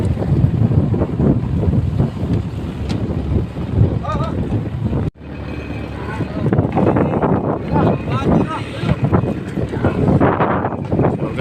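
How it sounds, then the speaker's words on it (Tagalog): A small boat motors across the open sea near Scarborough Shoal, its engine droning under loud wind buffeting and splashing waves, with a brief dropout midway and voices in the background. "Ganyan po ang pangangat ng maliliit na bangka dito mga lods."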